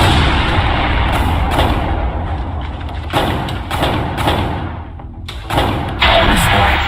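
Missiles launch in the Space Fighter video game as a series of heavy, booming thuds, some in quick pairs, punching through a continuous loud roar of engine noise.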